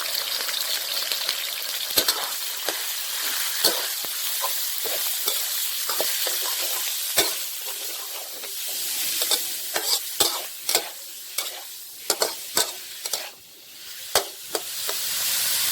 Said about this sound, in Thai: พอกระเทียมเจียวเริ่มหอมนะครับ เราก็ใส่หมู ใส่หมูบดนะครับ หรือว่าหมูสับนะครับ ลงไปครับผม